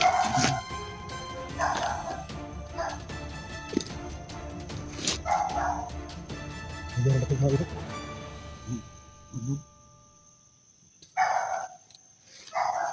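Several stray dogs bark and yip in repeated short bursts near at hand, with a person speaking briefly between them and a quieter lull before a final round of barks.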